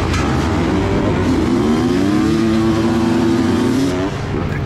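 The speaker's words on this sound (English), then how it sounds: "Kawasaki power, just ripping it" A 2004 Kawasaki KX250 two-stroke motocross bike races at full throttle in an MX race, its engine screaming loud and continuous with rising and falling revs, close up throughout.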